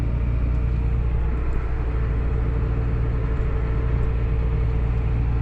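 A John Deere 8300 farm tractor reverses and turns on soybean ground, its engine a steady, loud low rumble with an even drone throughout and no distinct changes.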